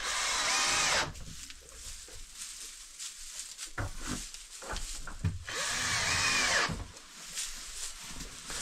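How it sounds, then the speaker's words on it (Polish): A cordless drill-driver drives screws in two loud, close bursts of high whirring, separated by knocks, handling noises and quieter shuffling. "Daj Lady wkrętarkę"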